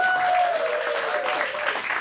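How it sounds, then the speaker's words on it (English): Audience applause at an adult acting studio script showcase in Phoenix, following stand-up comedy sets; dense, steady clapping fills about two seconds at moderate loudness, with a brief held tone near the start. "Let's give them one last round of applause."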